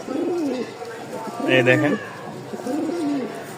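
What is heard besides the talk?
pigeon cooing, high-quality breed pigeon being released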